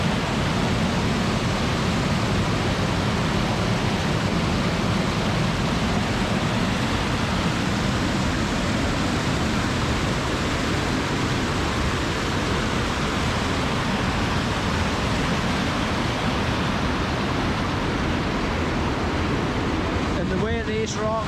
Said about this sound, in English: This is one of my favourite spots here, folks, the way this waterfall is.